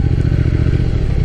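A Triumph Thruxton Final Edition large-capacity twin-cylinder motorcycle rumbles steadily at low revs with a deep, even throb, heard close and loud and with no talk.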